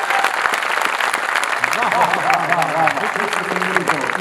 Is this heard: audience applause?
yes